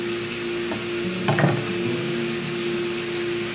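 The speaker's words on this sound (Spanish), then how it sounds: "Mientras se me está salteando allá la carnita" Pork meat sautéing in a pan for a pork in red wine dish, giving a steady soft sizzle with a few brief clinks and stirring knocks near the middle, close and alone.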